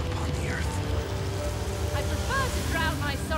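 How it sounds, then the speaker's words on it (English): Rain spell cast during a boss fight in the video game Divinity: Original Sin, giving a steady hiss of falling rain under continuous background music and game sounds, with talking over it. "I'm gonna precast rain."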